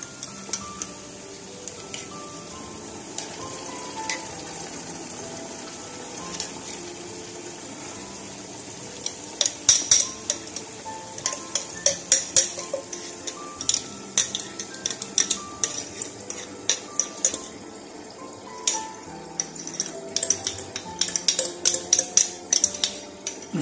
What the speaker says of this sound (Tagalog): Magluto natin yung alamang.